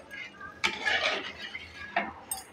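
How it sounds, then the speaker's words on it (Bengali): Water is poured onto fried chili in a hot pan, making a short burst of hissing sizzle and utensil clatter, then a couple of brief scrapes, close by and without talk. "দেখেন আমি কিন্তু পানি দিয়ে দিয়েছি।"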